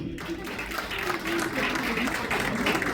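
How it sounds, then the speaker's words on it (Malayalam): An audience claps at a film audio launch event for Prince and Family, a dense, continuous wash of applause that fills the room, with a voice faintly audible underneath. "നല്ലൊരു കയ്യടി."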